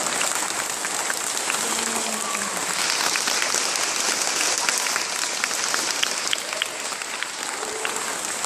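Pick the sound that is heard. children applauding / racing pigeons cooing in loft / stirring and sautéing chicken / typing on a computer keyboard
children applauding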